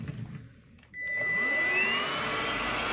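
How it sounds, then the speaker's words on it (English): A household vacuum cleaner switches on about a second in and runs steadily on the floor, a loud close whine with a rising high-pitched tone over broadband motor roar; quieter room noise precedes it. "So let me show you now with the vacuum on."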